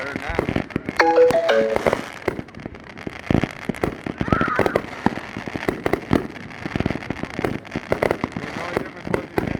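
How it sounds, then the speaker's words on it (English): Outdoor fireworks display in Bunker Hill, West Virginia, with rapid sharp bangs and crackling bursts in irregular volleys, loud and fairly near, plus a brief whistling tone early on. "I've never seen a fireworks play."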